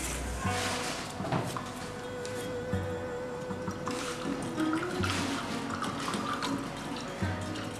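Dish soap stirred into warm water gives faint, continuous sloshing and splashing with light clinks, while a voice speaks quietly underneath.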